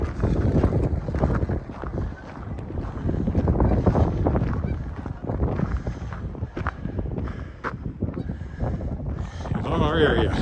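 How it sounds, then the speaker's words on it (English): Strong wind buffets the microphone on a city street in Regina in November after a blizzard, a constant rough roar with faint traffic and distant sounds beneath it. "I will be glad to turn the corner and not walk directly into the wind."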